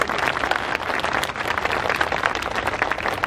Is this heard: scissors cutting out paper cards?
no